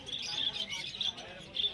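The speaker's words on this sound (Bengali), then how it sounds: "এখানে দেখতে পাচ্ছেন সুন্দর সুন্দর জেব্রা ফিঞ্চ আছে, যার দাম গেছে 250 টাকা জোড়া।" Caged zebra finches chirp at Banarjee Haat bird market in Kolkata, a cluster of bright, quick tweets in short bursts, close and moderately loud over a low market hum.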